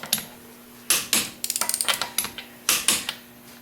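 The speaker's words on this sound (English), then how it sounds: "use a torque wrench set to at least 85 foot-pounds and tighten the bolts in a crisscross manner" A torque wrench tightens the wheel lug bolts on an 8th generation Honda Civic, giving a burst of sharp, close ratcheting clicks in quick runs, broken by a few louder metallic clacks, with no talk.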